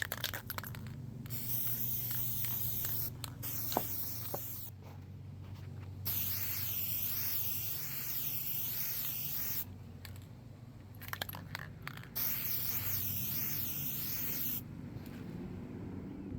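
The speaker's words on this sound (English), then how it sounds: "Let me go spray these so I can seal them" Aerosol sealant sprayed in bursts onto small craft pieces, a steady close hiss broken by several brief pauses between passes.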